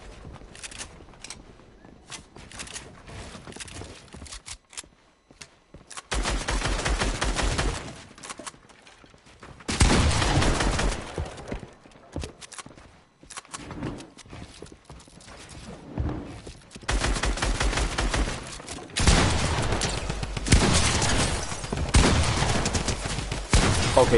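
Gunfire in the video game Fortnite: close bursts of rapid shots in several loud clusters, separated by quieter stretches with footsteps and ambient game noise.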